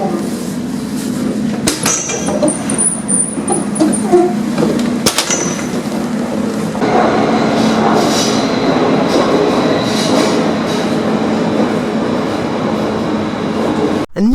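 A fully automatic Nuremberg U-Bahn subway train running loud and close: short sharp clatters and a wheel squeal early on, then a steady heavy rumble of the moving car.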